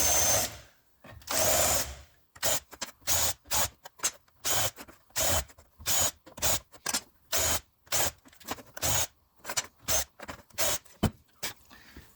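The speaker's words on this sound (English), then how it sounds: "I'm just going to run the countersinking bit into these." Countersinking bit drilling into a Holden Torana SLR dash panel: a power drill in short repeated bursts, first two longer whirs then a rapid run of quick on-off pulses, close and fairly loud.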